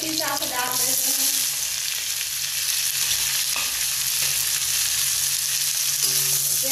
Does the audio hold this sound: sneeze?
no